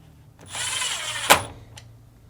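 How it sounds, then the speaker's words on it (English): Screw driven back into a Fisher & Paykel washing machine lid lock (part 424314P) with a power driver: a close, steady whirring run of about a second, ending in a sharp click, with a faint tick shortly after. "Then reinstall the screw."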